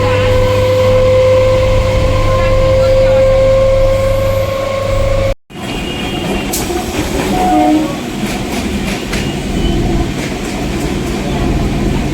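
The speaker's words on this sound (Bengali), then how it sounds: "এদিকে আসছে ট্রেন" A train roars loudly nearby, a sustained horn-like tone at first, then a dense rumbling clatter of rolling wagons after a brief cut.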